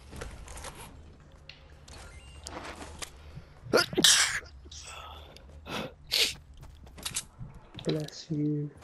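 A sneeze bursts out sharply among computer keyboard typing and mouse clicks during an online squad game, with game effects and talk around it.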